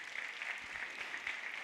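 An audience at a national congress session gives a round of applause, a soft, even rush of clapping heard from some distance, steady and brief.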